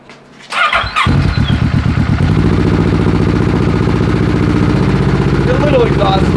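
A 600cc crosskart engine cranks and catches at about one second, then settles into a loud, steady, throbbing idle that runs to the end, with a brief rise in pitch near the finish.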